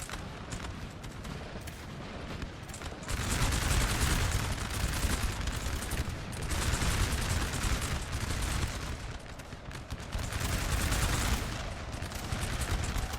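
Point-blank musket volleys roll through a Napoleon Total War battle, dense crackling gunfire swelling in loud waves over continuous battlefield noise.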